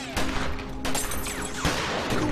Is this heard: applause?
no